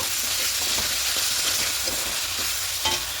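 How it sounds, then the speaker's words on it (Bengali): Sour yogurt being stirred into chicken and cabbage frying in a pan, a steady bright sizzle with soft scraping strokes of the spoon throughout. "এটা দিয়ে দিলাম মিশে ভালো করে মিশে নেব"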